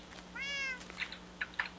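Minecraft cat giving a single clear, fairly soft meow, followed by a few faint clicks against a steady low background hum.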